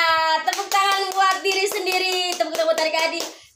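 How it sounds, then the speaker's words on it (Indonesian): Young children clap along at a Sunday school service for toddlers and kindergartners, with rhythmic claps sounding over a sustained sung or chanted voice with harmonic tones. "Tepuk tangan buat adik-adik."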